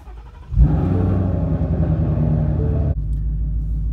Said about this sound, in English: let's start her up here